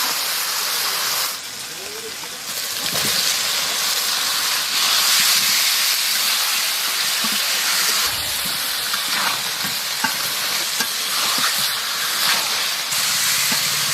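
Meat and potatoes dropped into fried ginger-garlic spice paste for a chicken curry, giving a steady close sizzle and steamy hiss that runs throughout, with a brief dip near the start and a few soft knocks.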